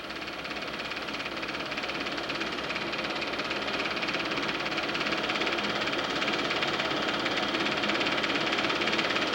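An off-road Jeep engine labors steadily up a steep hill at a Jeep Club camping outing near Lansing and Waukon, Iowa, a continuous rattling, knocking drone held at a constant level throughout.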